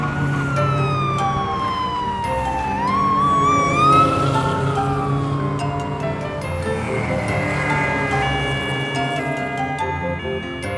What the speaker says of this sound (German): Das Polizeiauto.